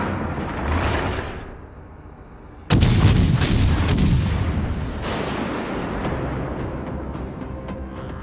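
Warship guns firing in the naval battle game World of Warships Legends: a sudden loud booming salvo cracks out, then rumbles and echoes away, with smaller sharp reports following.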